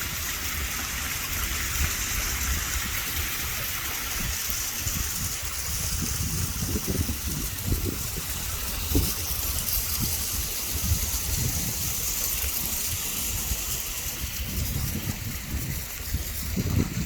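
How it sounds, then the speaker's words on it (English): Heavy rain during a Hawaiian storm, with water gushing steadily from a rain catcher, makes a continuous loud rushing, splashing wash that stays close and constant throughout, with no talk. "we are not getting snow, but we're getting a lot of rain."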